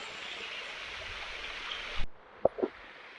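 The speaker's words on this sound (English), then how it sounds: "There's that fucking waterfall I was afraid of." Steady broadband rush of a river waterfall over rounded, slippery rock near Percé, Quebec, constant for two seconds before cutting to a quieter background with a few brief thumps.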